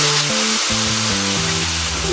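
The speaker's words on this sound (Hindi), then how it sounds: "थोड़ा पानी डालेंगे," Water poured into a hot pan of frying spices makes a loud, steady hiss and sizzle for about two seconds, with stepped background music playing over it.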